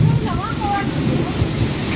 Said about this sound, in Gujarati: તોફાન કહેવાય વરસાદ ન કહેવાય